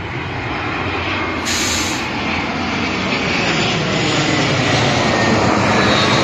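An airplane at Zhengzhou Xinzheng International Airport, a loud, continuous broadband engine roar that builds gradually over several seconds, with no voices.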